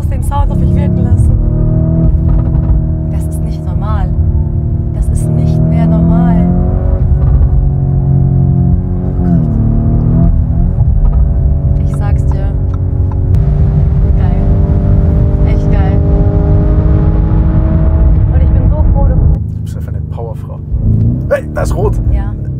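An 840 PS ABT-tuned Lamborghini Urus drones steadily and loudly from inside the cabin, a sustained engine note that rises and falls slightly in pitch as the car drives on.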